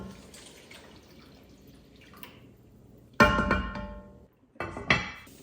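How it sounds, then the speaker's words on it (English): Soaked rice is rinsed under running water in a kitchen, with splashing and pouring in two bursts, the second shorter, after a quiet stretch of faint trickling. "I like to soak my rice and rinse it off."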